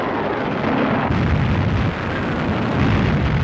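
A heavy artillery barrage of nearly 1,000 guns opens the Battle of El Alamein, shelling Axis rear areas. It sounds as a continuous, loud, dense rumble of overlapping blasts with no voices.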